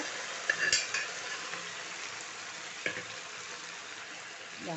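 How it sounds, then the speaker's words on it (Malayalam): Cooked green beans for payar upperi are stirred in a pan, giving a quiet, steady sizzle with a couple of clear utensil clinks and scrapes, close by and without speech. "നന്നായി ഇളക്കി കൊടുക്കുക"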